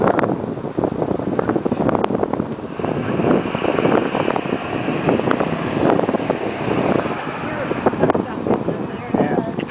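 Roaring, gusting tornado wind in Douglas County, Colorado buffets the microphone continuously, a heavy rumbling storm with voices faintly mixed in.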